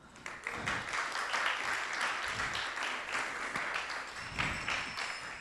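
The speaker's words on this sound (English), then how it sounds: "we'd like to thank Maharaj for a wonderful enlightening class by giving a round of applause" A temple congregation applauds the lecturer after a scripture class, a steady, fairly quiet wash of many hands clapping that carries on through the whole stretch in a reverberant hall.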